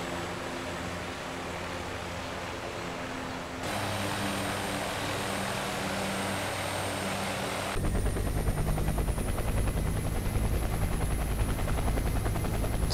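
Milviz UH-1 helicopter in a flight simulator game, a steady rotor thump and turbine drone that grows louder and busier in stages, with no talking.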